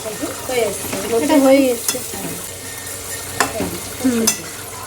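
Nigella seeds and spices sizzle in hot oil while something is stirred in a pan, with scraping sounds and a few sharp clicks of a utensil.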